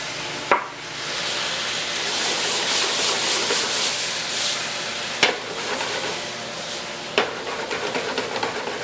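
Foie gras sizzles steadily in a hot pan as rice wine vinegar goes in, a loud continuous frying hiss broken by a few sharp clicks and knocks, with no talk.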